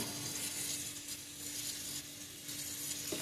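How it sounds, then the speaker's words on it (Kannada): Coconut oil heating in a pan on the stove for an Udupi-style amaranth greens sambar, a soft continuous sizzle and crackle with a faint steady hum underneath, quiet and close. "ಪ್ಯಾನಿಗೆ ಸ್ವಲ್ಪ ನಾನು ತೆಂಗಿನ ಎಣ್ಣೆ ಹಾಕ್ತೇನೆ"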